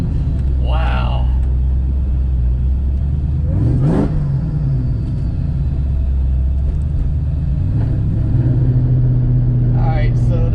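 Supercharged 2003 Ford Mustang Mach 1 V8 on the road, a steady low engine rumble with brief rising revs and supercharger whine, while people talk over it inside the car.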